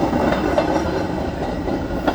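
A train rolls past a road crossing with a steady, close rumble and rhythmic wheel clatter on the rails, continuous and loud with no voices.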